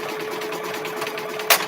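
A sewing machine stitches mug rugs in a steady, even whir that runs throughout, with a brief brighter click near the end.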